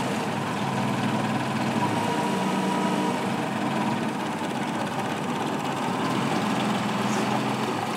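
An MDP-200D Mini peristaltic pump runs continuously, giving a steady, even mechanical hum with a dense whirring texture and no pauses, close and moderately loud.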